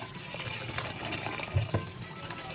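Water rushes and splashes steadily as pasta water is drained into a sink, with a couple of heavier gushes near the end.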